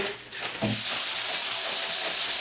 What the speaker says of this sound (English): could I hit it with the paddle sander? Yeah, I could hit it with the paddle sander